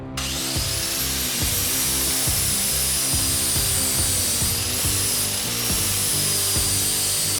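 Rust scale is worked off the auger shaft of a Craftsman snowblower with a steady, loud grinding scrape and a thin high whine running throughout.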